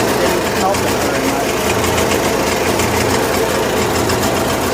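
A 7000 watt Kohler generator on a bus runs poorly and too rich, a loud, close, continuous rough chugging with an uneven knock and vibration throughout.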